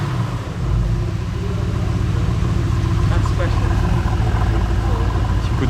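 A modified Mercedes-AMG GT R rated at 840 horsepower, with exhaust outlets on each side plus the center one, gives a deep, steady engine and exhaust rumble. It is loud and continuous, with people talking over it.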